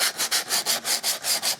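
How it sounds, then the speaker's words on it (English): Rhythmic sanding of wood, about nine steady back-and-forth rasping strokes, close and loud with no other sounds. "once you've finished your sanding"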